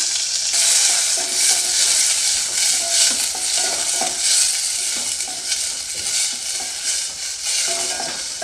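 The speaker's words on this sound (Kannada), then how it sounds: "ಇವಾಗ ಈರುಳ್ಳಿನ ಸ್ವಲ್ಪ ಫ್ರೈ ಮಾಡ್ಕೊಳ್ತೀನಿ" Two medium onions frying in hot oil with mustard seeds and cumin in a pan: a dense, loud, even sizzle with faint stirring scrapes running through it, no talking.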